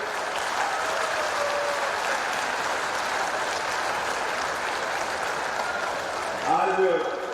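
A large audience at a public welcome event stands and applauds a guest, giving dense, sustained applause that stays steady throughout, with a voice starting to speak over it near the end.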